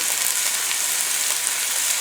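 Hash brown potatoes sizzle in melted butter in a hot pan, a steady, bright hiss of frying that holds level and close without a break.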